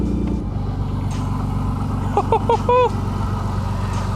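A Toyota Supra engine idles after starting, a steady close rumble with a short burst of higher chirping sounds partway through the clip.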